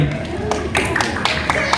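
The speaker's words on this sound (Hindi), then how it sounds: "ओके, आइए जोरदार तालियां हो जाए इनके लिए," Handclaps ring out on a film shooting set for the actors, a few sharp close slaps spaced unevenly over a short stretch, mixed with background voices.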